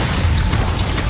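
Glacius ice spell cast in Hogwarts Legacy gameplay during a dragon rescue battle, a short loud booming blast filling a dense, noisy moment, with no speech.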